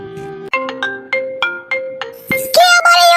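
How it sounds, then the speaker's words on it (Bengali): A phone ringtone plays loud and close: a string of evenly spaced electronic beeps that swells into a brighter melodic tune near the end. "রিং হয়েছে, ফোন তুলছে না কেন?"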